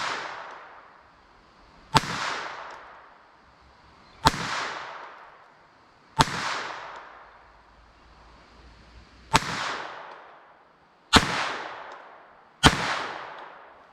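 Six sharp rifle shots firing Norma TAC-22 rounds outdoors, spaced about two seconds apart, each a loud crack followed by a trailing echo that fades before the next.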